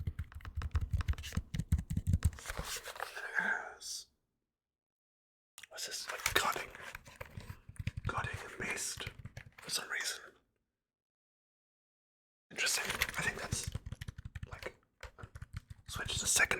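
Keys clicking and tapping on a cheap computer keyboard that has volume and music keys along its side, arriving in bursts of close, rapid taps broken by full silences, with soft whispering mixed in.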